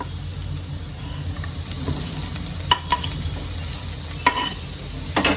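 Chopped onion and red capsicum frying with corn in a pan, a soft steady sizzle under a low background hum, broken by a few sharp clicks of a spatula stirring against the pan.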